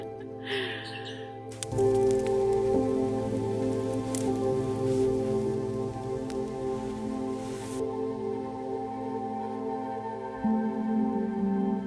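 About 2 litres of water splash steadily onto the ground on a Tasmanian mountain for several seconds, a broad continuous pouring hiss that stops abruptly, with faint birdsong behind.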